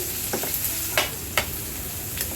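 Ginger-garlic paste and curry leaves fry in a pan for a fish fry with a steady, close sizzle. A few sharp crackles and spatters punctuate the sizzle.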